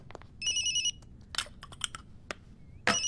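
An electronic phone ringtone plays in bursts of bright, steady tones, with short clicks and rustles between them and another burst at the end.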